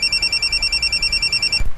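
A telephone rings with an incoming call: a bright electronic ringtone pulses rapidly and evenly, loud and close, then cuts off abruptly with a low thump.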